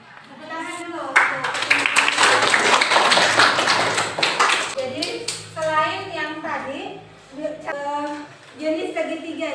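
Schoolchildren in an Indonesian eighth-grade maths class clap together in a loud burst of rhythmic claps for about four seconds. Children's voices chatter over and after it.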